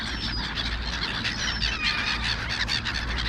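Gulls feeding in fog, a busy flock giving repeated high squealing calls nearby over a continuous outdoor background, no talk.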